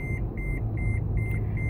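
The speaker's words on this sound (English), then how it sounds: "my seatbelt beeping is going to go off." A car's seatbelt warning chime beeps steadily, about nine evenly spaced tones over a low engine rumble, clear and close.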